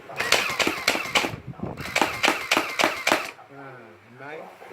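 An M107 toy water bead gun fires in a quick series of sharp snapping pops, two bursts of rapid shots close by, followed by a voice speaking.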